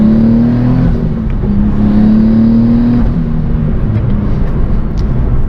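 Twin-turbo Nissan 370Z NISMO dropping a few gears and accelerating past about 3,000 RPM, a loud, steady engine drone heard from inside the car, with a tone that rises and then settles, no talking.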